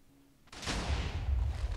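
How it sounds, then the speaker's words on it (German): A cannon fires in Minecraft WarGear, a single sharp report that swells into a long, loud, rumbling blast with heavy low-end impact and no voices. "Und die Kanone noch einmal."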